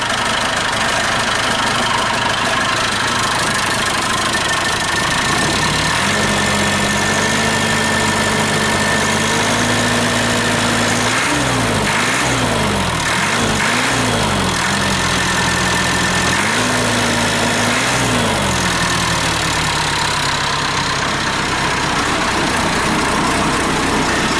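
A Perkins 236 turbo diesel engine idles steadily and loudly up close, with a low rumbling drone whose pitch rises and dips a few times as it settles.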